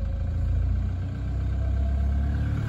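A car engine idles steadily with the idle-up button engaged, a constant low rumble and hum with a faint clatter, running evenly and close by with no one speaking.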